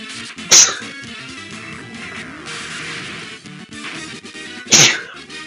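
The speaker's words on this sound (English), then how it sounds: "I'm sorry about sneezing" Two sharp, loud sneezes from a man, one near the start and one near the end, with quieter background sound between them.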